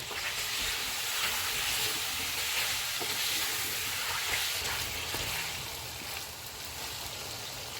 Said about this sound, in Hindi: आलू डालेंगे, इनको 2 मिनट तक भूनेंगे।